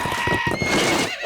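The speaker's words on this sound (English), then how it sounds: "Gallop like the wind horse, Jimmy's in trouble." A cartoon horse whinnies loudly in a short, wavering neigh that fills the moment alone, with a faint clip-clop of hooves mixed in.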